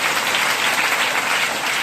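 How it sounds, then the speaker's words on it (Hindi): A packed meeting hall erupts in loud, dense applause for Sunny sir, a continuous roar of many clapping hands heard close and unbroken throughout. "जोरदार तालियां सनी सर के लिए बजाइए।"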